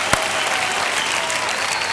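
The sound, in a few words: audience applause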